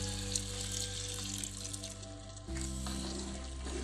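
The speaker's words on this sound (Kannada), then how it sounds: "ಚೂರು ನೀರು ಪಡ್ಗ" Water is added to masala chicken gravy cooking in a pot over a wood-fired stove, giving a faint watery trickle and light sizzle over a low steady hum.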